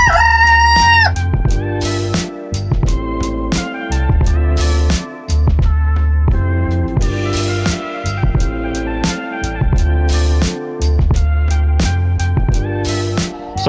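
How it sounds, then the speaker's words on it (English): Farm chickens clucking busily with a rooster crowing loudly near the start and again midway, a dense, continuous chorus of close birds with no talk. "So if you guys can't tell, these are chickens."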